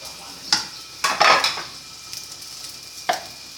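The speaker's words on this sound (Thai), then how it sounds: "พอเทเสร็จแล้วก็ผัดผัดผัดข้าวนะคะ" Rice with sausage being stir-fried in a pan, a spatula clanking and scraping against the metal in quick bursts over a soft sizzle, close up, with no speech.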